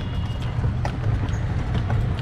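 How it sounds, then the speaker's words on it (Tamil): Hooves of a horse pulling a cart clip-clop steadily through a U-turn, close and fairly loud over a dense rumbling road and wheel noise, with no voices. "குதிரை வண்டியில யூ டர்ன் பாருங்க."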